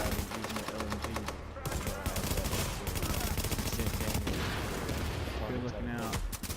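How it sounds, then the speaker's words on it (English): LMG machine gun fire in The Division video game rattles in rapid bursts of dense, sharp shots, nearly continuous and loud throughout, with other gunfire and game sounds mixed in. "That guy who's using the LMG."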